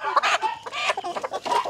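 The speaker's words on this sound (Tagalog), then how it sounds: "Mga healthy ni atong mga manok guys no, active ug healthy." Healthy, active Lohmann layer pullets on a Cebu farm cluck close by in several quick, overlapping bursts.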